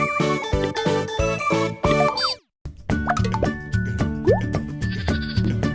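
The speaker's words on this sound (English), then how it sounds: "here come the black-faced sheep, a lamb, a ewe, a ram, another ewe, and the Suffolk black-faced sheep" Toy Suffolk black-faced sheep, lamb, ewe and ram bleat in short electronic calls over bouncy, jingling children's music with plops and boings, loud and close, with a brief silent break midway.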